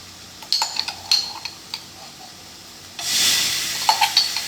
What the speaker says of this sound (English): I'm gonna add the garlic in now because these are browned enough